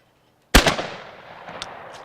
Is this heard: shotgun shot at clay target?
yes